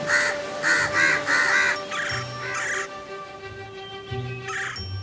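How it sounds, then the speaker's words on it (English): Several crows caw together as they gather on a nest in an animated story, giving a run of loud, rapid harsh calls, then more scattered caws over a low background hum. "called all the other crows, and soon they gathered on Mr."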